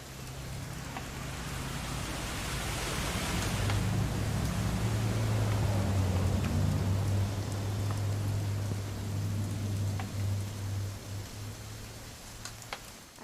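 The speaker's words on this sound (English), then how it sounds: "It's gonna rain the whole weekend" Steady rain in the game What Remains of Edith Finch, a continuous hiss of falling water with a low rumble underneath, broad and even throughout with a few faint taps near the end.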